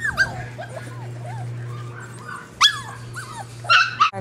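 Welsh terrier puppies whimper, yip and bark in a chorus of high squeaky cries, close and lively, with a few sharper barks near the end and a background hum.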